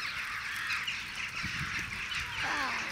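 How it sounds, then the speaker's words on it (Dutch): A large flock of birds fills the trees on holiday with continuous high chattering and calling, steady and fairly close, with occasional low background noise and brief voices. "Kijk al die vogels in de boom."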